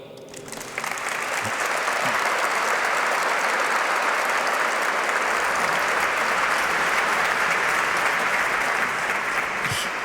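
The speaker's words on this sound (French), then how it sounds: "je crois que vous pouvez les applaudir" Sustained audience applause fills a gala evening celebrating an organisation's 20th anniversary, a dense, steady wash of many hands clapping that starts abruptly and holds at full strength throughout, with no speech over it.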